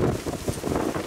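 Strong wind buffets the microphone outdoors on the water, a loud rumbling, gusty roar that pulses unevenly throughout.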